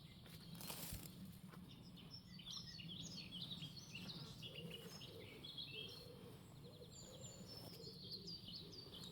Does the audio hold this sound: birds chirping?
yes